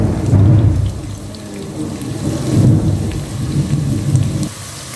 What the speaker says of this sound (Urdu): بادل اتنے زور سے گرج رہے ہیں اور ساتھ اولے بھی پڑ رہے ہیں ہماری طرف